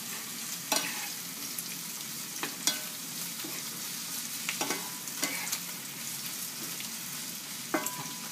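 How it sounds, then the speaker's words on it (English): Vegetables sautéing in a pan for a sauce beside bacon and chorizo, a continuous soft sizzle broken by several sharp clicks and scrapes of stirring. "I'm going to saute that until everything is nice and tender"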